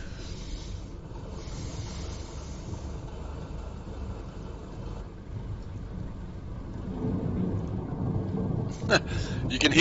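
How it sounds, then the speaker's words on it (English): Thunder rumbles low and distant during a tropical cyclone, with a steady wash of rain and wind that builds toward the end. "You can hear the thunder in the background."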